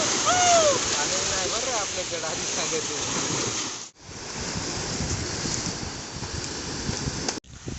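Strong ocean waves at Devka beach in Daman, a loud continuous wash of surf mixed with heavy wind rumble on the microphone, with faint voices and brief cuts.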